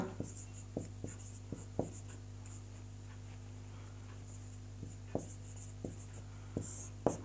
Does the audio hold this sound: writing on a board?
yes